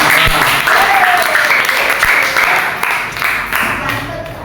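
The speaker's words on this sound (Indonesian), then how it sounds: "Kasih tepuk tangan dulu dong" Classroom students clap for group 3 before its presentation, a loud, close burst of applause lasting several seconds and tapering slightly toward the end.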